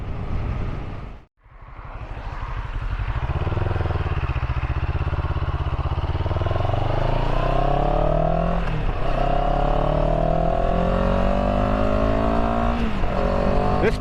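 A CFMoto CL-X 700 motorcycle engine in eco mode roars loudly and climbs steadily in pitch as it accelerates through the gears, sustained and close.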